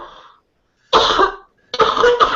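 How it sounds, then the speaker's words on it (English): Two harsh, close coughs from an adult, each a short burst with a rough rasp, separated by a brief pause, after a faint bit of trailing breath at the start. "this cough is killing me"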